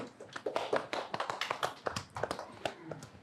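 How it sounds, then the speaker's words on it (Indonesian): An audience at a live comedy Q&A show claps, with loud, uneven individual hand claps overlapping close to the microphone rather than blending into a smooth roar. "Tepuk tangan dong, kita sambut Mas Soleh Solihun."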